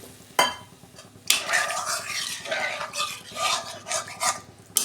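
Water goes into fried spice paste in a pan for a fish curry, bursting into a sharp sizzle that rises and falls as a spoon scrapes and stirs against the metal, close up.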